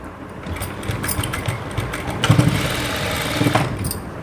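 A sewing machine stitches the side seam of a blouse, a close mechanical whirring with quick rhythmic clatter that runs continuously, surging slightly in a few spots.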